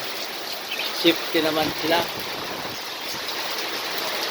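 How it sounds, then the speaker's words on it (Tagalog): Steady heavy rain hisses throughout, with a person speaking briefly over the downpour. "ang lakas ng ulan"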